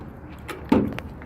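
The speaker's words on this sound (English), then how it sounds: "I'm gonna make sure that the door closes properly. It does." A truck door swings shut with a single solid thump during a pre-trip inspection at a driving school in El Paso, Texas, followed by a brief settling rattle over quiet background.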